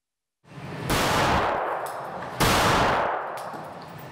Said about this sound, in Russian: В Улан-Удэ прошли соревнования по практической стрельбе из боевого оружия